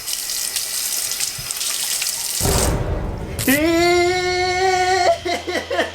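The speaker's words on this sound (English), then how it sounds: "Watch what happens when I touch water." A household tap runs steadily while a hand touches the stream, the flow noise changing abruptly midway as fingers break the water, close and fairly loud, with a brief whine-like tone near the end and no clear talk.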